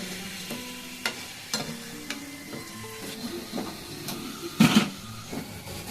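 Mecha sandesh sweets fry in oil with a low, steady bubbling, punctuated by sharp clicks and clanks of a utensil against the pan, including a louder scrape near the end.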